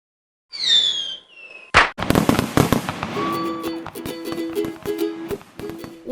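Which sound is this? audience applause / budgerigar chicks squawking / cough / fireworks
fireworks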